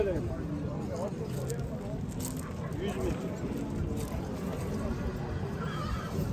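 Horses whinny now and then across a busy outdoor horse market in Nookat, their calls mixed into steady crowd chatter and hoof clatter, with people talking throughout.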